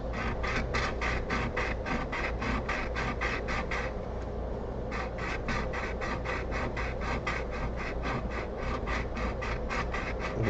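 A woodworking tool is pushed and pulled across a sharpening stone in fast, even rasping strokes, with a short pause partway through before the scraping rhythm resumes, close and clear with no talking.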